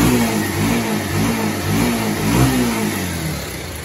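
Bajaj Pulsar 150 motorcycle, past 25,000 km with a noisy timing chain, revving up and down close by, its engine note rising and falling over a continuous mechanical rattle.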